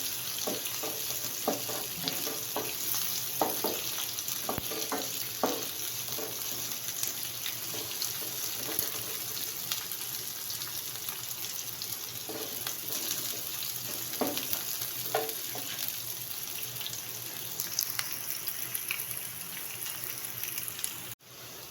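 Sliced onions fry in oil until light golden, a low steady sizzle with intermittent scraping stirs and clinks at irregular intervals, quiet throughout and without speech.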